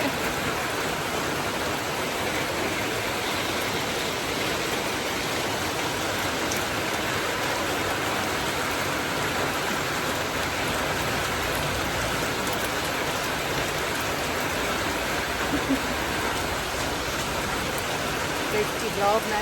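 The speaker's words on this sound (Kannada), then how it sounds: "ಮಳೆ ಎಷ್ಟು ಬರ್ತಾ ಇದೆ" Heavy rain pours down steadily, a dense, continuous hiss of drops striking surfaces that stays loud and unchanging throughout.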